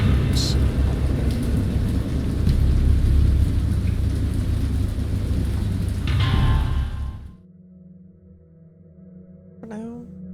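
A heavy thunderstorm pours steady loud rain with rolling thunder rumbles, then cuts abruptly to near quiet with a faint lingering tone and a brief sharp sound at the end.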